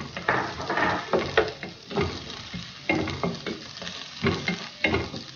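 Onion and ginger sautéing in a pan for salmon sinigang, a close, steady sizzle with rhythmic stirring strokes roughly every second, no talking.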